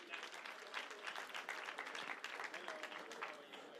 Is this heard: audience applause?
yes